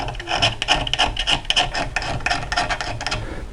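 A Speedy Sharp carbide sharpener rasps across the steel blade of a garden lopper in quick, repeated close strokes, each scrape bright and gritty, with no voices.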